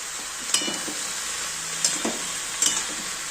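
Mixed vegetables with salt sizzle steadily in a pan during sautéing, with a few sharp stirring scrapes and clinks standing out over the constant frying hiss.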